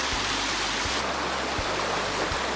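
A river flows in a loud, continuous rushing wash, close by and steady throughout, with faint low thumps underneath.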